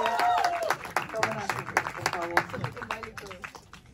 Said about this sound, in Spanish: Les oigo el aplauso.